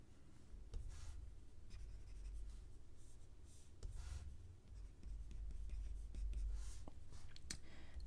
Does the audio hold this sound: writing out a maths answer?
yes